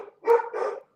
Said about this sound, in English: You have to speak up with your dog stop barking, Mark.